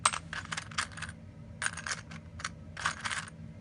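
Coins, pennies and nickels, drop and clink together in three quick bursts of metallic jingling, close and fairly quiet, with short gaps between them.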